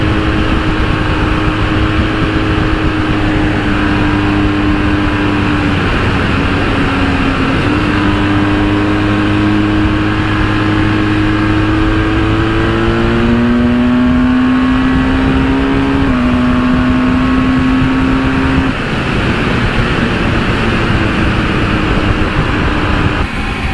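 A BMW R1250 GS motorcycle rides at speed, its engine note climbing and dropping through gear changes under steady wind and road roar, loud and close throughout.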